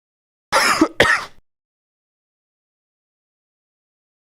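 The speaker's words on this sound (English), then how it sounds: "Get that cough out of the way." A throat-clearing cough during a live game-reaction stream, two quick harsh bursts close to the mic followed by silence.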